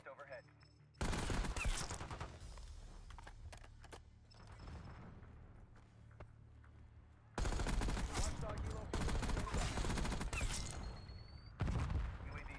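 Rapid automatic gunfire from an AMES 85 rifle in the shooter game Black Ops 6, loud bursts of dense fire with brief lulls, punctuated by sharp impacts and game effects.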